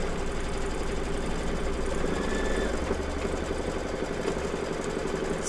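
An embroidery machine stitches the finishing stitches on a fabric mug rug, a fast, even mechanical whirr with rapid needle ticking and a steady motor hum, moderately close and uninterrupted.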